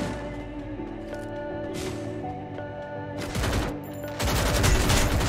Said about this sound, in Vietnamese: Mấy ông này bắn nhau trên đây à?